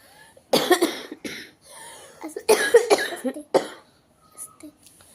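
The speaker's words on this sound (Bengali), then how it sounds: "কথা বলার মতো অবস্থা নেই, প্রচুর কাশি হচ্ছে" A person coughing hard in repeated fits while ill, harsh bursts in clusters close by with brief pauses, followed by fainter coughs.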